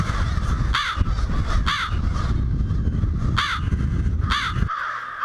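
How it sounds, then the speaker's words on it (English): Crows give about four loud, harsh caws at irregular intervals, close by, over a steady low rumble of background noise. "Everybody knows the caw, caw, caw of the crow"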